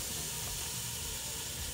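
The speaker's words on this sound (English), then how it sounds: "you're going to hear that sizzling as I'm talking" Cabbage frying in a pan gives off a steady, bright sizzling hiss, close and unbroken, with no talk over it.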